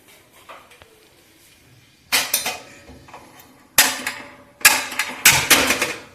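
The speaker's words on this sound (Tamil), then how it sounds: "இப்போ பாத்திரம் வச்சுருக்கேன் அடுப்பில்" A metal pot set down on a stove for poppy seed payasam gives several sharp metallic clanks and knocks, some close together in bursts, between quieter stretches of faint handling.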